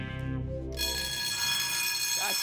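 Security alarm going off with a sustained, loud electronic tone full of steady harmonics, sounding continuously after a brief lower hum, with a faint voice near the end.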